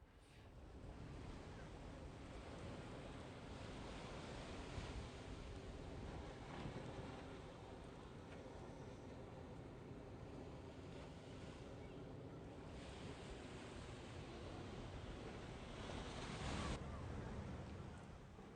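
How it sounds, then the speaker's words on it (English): Pacific Ocean surf breaking on a wide sandy beach at Newport Beach on a warm day, a steady broad wash of waves with gusting wind noise on the microphone, continuous and moderately loud with no talking. "look at that amazing expanse of sand and the Pacific Ocean breaking on it"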